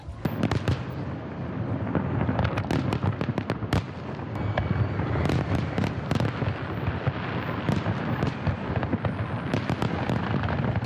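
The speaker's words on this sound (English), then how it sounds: "Fireworks are pretty. The only thing I don't like is they're very, very, very, very, very loud." Fireworks boom and crackle continuously, sharp bursts overlapping in a loud, dense barrage with rumbling echoes between them.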